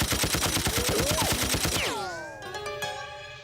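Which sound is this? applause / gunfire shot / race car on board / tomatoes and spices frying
gunfire shot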